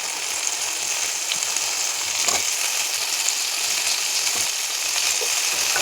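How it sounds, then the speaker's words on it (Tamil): Tomatoes frying in a pan while being stirred, a steady moderate sizzle with scraping stir strokes and a few sharper clicks of the utensil against the pan, close by and without speech. "தக்காளி போட்டு நல்லா கரைச்சி விட்டுருவோம்"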